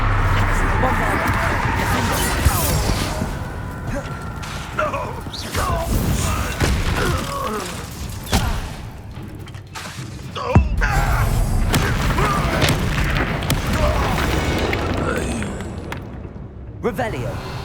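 Blasting-spell explosions from Bombarda in Hogwarts Legacy give deep booms and thuds within dense, continuous game combat noise, with several sharp impacts scattered across the stretch.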